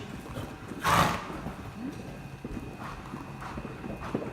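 A horse canters in a riding arena, its hoofbeats soft and rhythmic on the footing, with a louder snort or blow near the start over a steady, noisy background.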